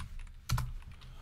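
A short burst of keyboard typing while entering a WordPress plugin search, with a couple of sharp close key clacks and a few lighter taps.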